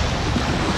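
Sea waves wash onto a shore at dawn in a loud, continuous roar mixed with wind buffeting the microphone, with no voices.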